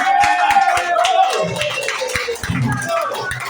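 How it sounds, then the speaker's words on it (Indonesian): An audience at a lively Indonesian motivational event claps for itself, giving dense, loud applause mixed with crowd noise, while a voice carries over the clapping and music. "coba tepuk tangan untuk diri Anda sendiri"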